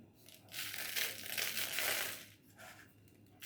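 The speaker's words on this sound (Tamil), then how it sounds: "இந்த மாதிரி அடுக்கி இப்படி பேப்பரில் சுற்றிங்க" Paper crinkles and rustles as it is wrapped around stacked containers, a soft, close crumpling that swells and fades over a few seconds with no talking.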